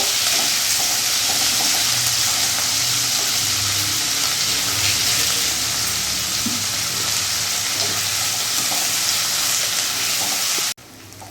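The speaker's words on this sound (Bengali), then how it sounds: "পেঁয়াজটা একটু ভেজে নেবো" Chopped onions fry steadily in hot oil in a pan over a medium gas flame while a mutton curry is being made, giving a loud, continuous close-up sizzle that stops abruptly near the end.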